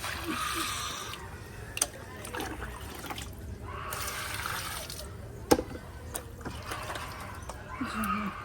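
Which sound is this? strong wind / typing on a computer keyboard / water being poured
water being poured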